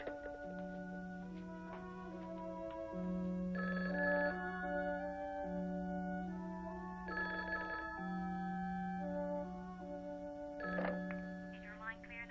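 An old telephone bell rings back in repeated bursts, each ring a steady electric trill followed by a pause, several cycles in a row at moderate level in a quiet room.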